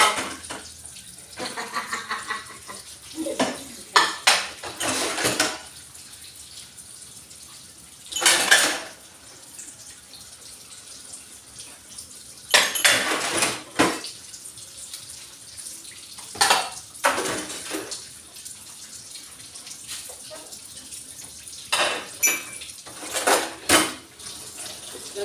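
Dishes and cutlery being washed at a sink in the morning, with loud bursts of running tap water between clattering plates and jangling spoons and forks, close and busy, no talk.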